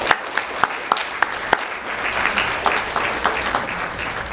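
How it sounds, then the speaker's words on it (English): A banquet audience at an NAACP Freedom Fund dinner claps for an honoree who is not present, starting with a few sharp scattered claps that build into a steady round of applause. "We'll give him a round of applause"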